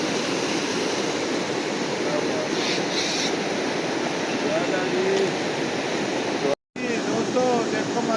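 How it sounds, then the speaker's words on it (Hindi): A river rushes steadily in the early morning among mountains, a loud constant wash of flowing water with faint birdsong above it and a brief dropout near the end. "ये देखो दरिया"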